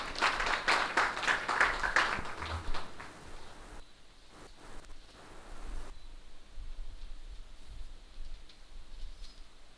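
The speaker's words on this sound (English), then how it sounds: "Big round of applause" An audience applauds to welcome a speaker to a science session, a dense burst of many hands clapping that thins to scattered claps and then fades into quiet room noise.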